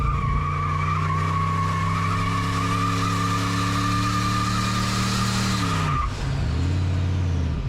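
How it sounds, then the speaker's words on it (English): A tow truck does a burnout, a loud sustained engine roar with tire squeal held for about six seconds before dropping off and revving again. "If you want him to do a burnout, do it."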